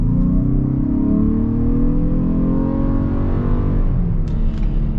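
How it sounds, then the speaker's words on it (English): A 2021 Ford Explorer Hybrid pulls away at low speed, its engine note climbing steadily in pitch as it accelerates, heard loud and close from inside the cabin with no talking. "let's get a kind of like low-speed acceleration here"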